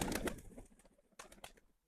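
Racing pigeon cooing close by, a couple of soft throaty bursts with a short pause between, fairly faint with no voices over it.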